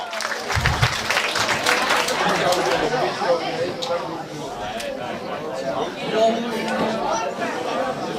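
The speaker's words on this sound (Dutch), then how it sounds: "nog een applaus voor Sweerland. Zuid-Holland." A Dutch audience applauds for a Zuid-Holland performance, dense continuous clapping with crowd chatter mixed in, steady and fairly loud from start to finish.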